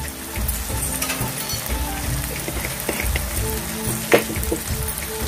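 Ground coriander and cumin sizzle steadily in hot oil in a brinjal curry pan, a close, continuous crackle with a brief louder pop near the end.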